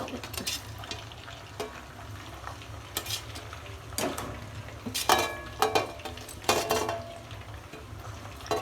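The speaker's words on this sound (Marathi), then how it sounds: "आता याच्यात फ्राय करायला टाकते परत" Chicken lollipops frying in hot oil in a home kitchen, a steady sizzle broken by scattered clinks and stirring scrapes of a utensil against the pan, with a few louder bursts near the end.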